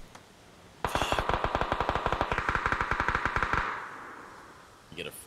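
Automatic gunfire in PUBG: a long rapid burst of about thirty evenly spaced, loud shots that ends in a fading echo, followed by a couple of faint pops.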